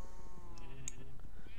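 A short bleat from a sheep in the Minecraft video game, heard once amid quiet game background sound.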